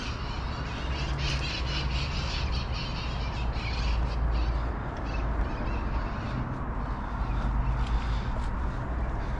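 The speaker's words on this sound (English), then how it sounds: "Here go the parrots." Parrots squawk in a loud, dense outdoor chorus, with harsh overlapping calls running continuously over steady background noise.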